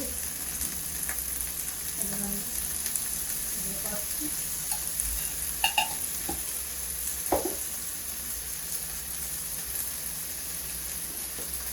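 Onions sizzling and frying in a pan for gongura chutney, a steady crackling hiss throughout with occasional clinks of stirring and a faint voice in the background.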